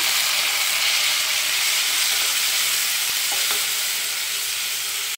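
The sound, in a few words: tomatoes added to frying potatoes in pan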